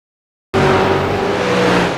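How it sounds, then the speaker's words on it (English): A loud, steady V8 race car engine drone with a sustained harmonic hum starts abruptly after a brief silence and holds at a constant pitch. "We get the voices, but we're not getting the car sounds."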